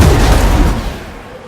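A trebuchet fires and its payload explodes in a Total War Warhammer battle, a loud deep boom with rumbling low end that decays over about a second.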